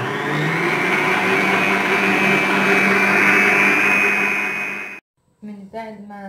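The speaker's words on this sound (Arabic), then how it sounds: "وغادي نزيد نطربو مزيان" An electric mixer whirs loudly and steadily as it beats ingredients for a family-size creamy ice cream, then cuts off abruptly, and a voice speaks briefly afterward.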